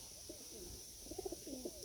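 Racing pigeons housed in a loft give a few soft, low coos, faint and scattered over a steady background hiss.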